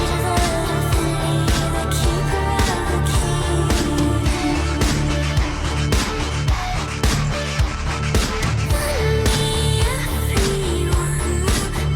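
Recent pop single, a dense, loud electronic track with a pounding regular bass beat, layered synths and a busy mix playing throughout.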